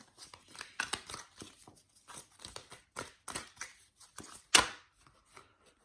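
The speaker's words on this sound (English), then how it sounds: "Why are my cards shuffling so weird today?" Tarot cards shuffled by hand up close, a quick run of crisp papery flicks and riffles in an uneven rhythm, ending with one louder snap, with no talking.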